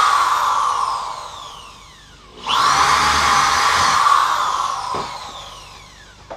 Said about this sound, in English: you're just going to be drilling through the PVC